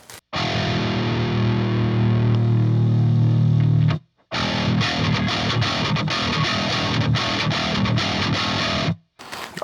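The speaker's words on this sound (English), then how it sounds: "This is just straight up clean boost, but with a certain EQ on it." Electric guitar played through a DAE Duality DX overdrive pedal on its blue channel, set as a clean boost with shaped EQ. Loud sustained chords ring for about four seconds, then after a brief gap a choppier strummed riff follows, with no talk.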